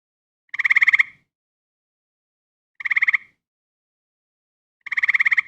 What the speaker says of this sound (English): Cope's gray tree frog.